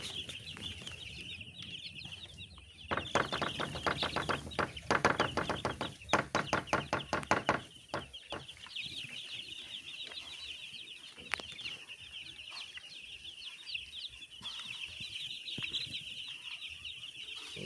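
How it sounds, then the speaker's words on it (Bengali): Many broiler chicks cheep in a continuous high-pitched chorus, broken midway by a few seconds of loud rapid fluttering and scuffling close by. "মুরগির বাচ্চা"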